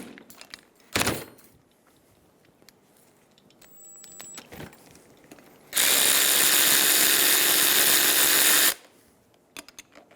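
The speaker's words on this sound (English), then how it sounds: "Using a 14mm wrench and socket, we're going to take apart the caliper from the bracket" A 14mm wrench and socket work a brake caliper loose from its bracket on a 2007-2011 Toyota Camry rear brake, with scattered metallic clicks and clanks and a sustained loud whirring burst of a power tool in the middle.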